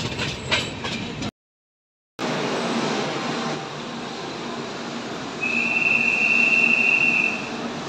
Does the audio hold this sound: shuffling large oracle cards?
no